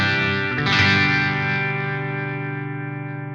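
A clean, dry electric guitar played straight into the signal chain with no effects: one strummed chord rings out and decays slowly, played alone.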